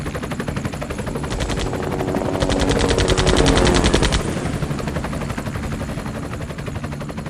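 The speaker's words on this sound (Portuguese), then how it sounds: "O helicóptero está chegando perto!" Helicopter rotor thumping as it approaches, joined midway by bursts of rapid machine-gun fire that swell loud and then fade back to the steady rotor drone.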